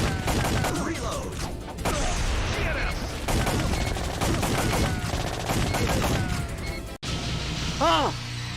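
Retro video game gunfire: rapid bursts of shots and crashes play loudly and continuously, with game sound effects and pitched electronic tones near the end.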